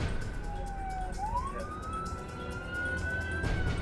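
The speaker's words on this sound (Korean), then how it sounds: "어둠이 내린 8번가 밤거리에 사이렌 소리가 유난히 크게 울린다." An LAPD police car siren wails through an LA street at night, a single tone sliding up then holding high at moderate distance over a constant low traffic rumble.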